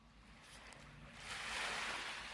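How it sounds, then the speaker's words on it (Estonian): Sea waves washing ashore on the wild Lääne-Virumaa coast at Vainupea, a soft rushing surf that swells louder midway, mixed with light wind, no voices. "Ja meri lainetab."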